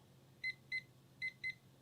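A kitchen timer being set for coffee brewing gives four short, clear electronic beeps, two pairs with a brief gap between them, near and fairly quiet over faint room noise.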